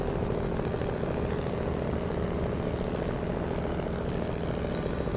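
A Kenworth truck engine in the Snowrunner video game drones in a steady, low, even rumble that stays fairly quiet and unbroken throughout, with no voices over it.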